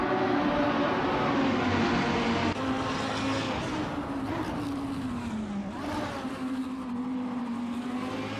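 Race cars, including a 2014 Lamborghini Huracan Super Trofeo, roar steadily in a racing video game, engine tones sustained and shifting in pitch with a brief dip and rise as they accelerate, loud and continuous with no talk.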